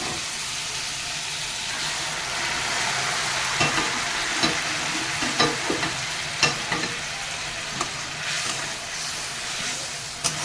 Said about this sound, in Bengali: এবারে আমার গরম জল দেবো তরকারিতে